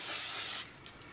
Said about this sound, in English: you need to spray it from different angles